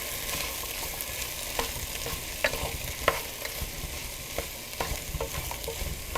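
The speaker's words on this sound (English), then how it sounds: "So to saute the goat meat, I'm going to put in all these ingredients first." Steady sizzling and frying of vegetables for goat meat soup in a pot, with occasional stirring clinks and scrapes, fairly close, no voices.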